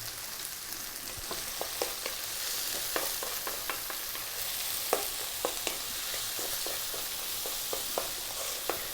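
Tomato fries in a hot pan for mushroom tom yum soup, a steady sizzle broken by scattered sharp pops and spoon clicks throughout.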